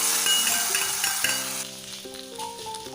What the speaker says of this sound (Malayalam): അപ്പോൾ നമുക്കിതിൽ താളിപ്പ് നമുക്കിതിലേക്ക് ഒഴിച്ചു കൊടുക്കാം.